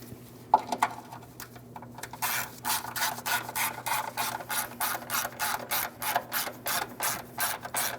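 A ratchet clicks rapidly and rhythmically while tightening a 10mm mounting nut on a fuel tank filler neck bracket of a 2005-2010 Chrysler 300, close and fairly quiet, with a short rubbing start before the steady ratcheting.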